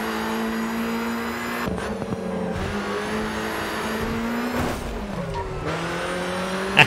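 A race car in the video game GRID 2 roars continuously, the engine note climbing and dropping through gear shifts and braking for corners, loud and close with no talking.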